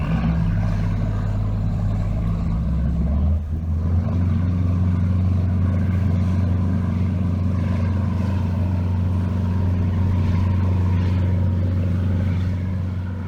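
A big boat engine drones loud and steady while dragging mooring weights, a deep continuous rumble with one brief dip partway through.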